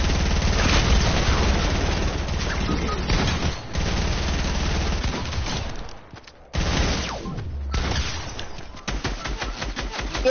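In a video game, a rocket launcher and other weapons fire in loud, dense bursts of booms and rapid shots that break off briefly, then resume with a regular stuttering volley.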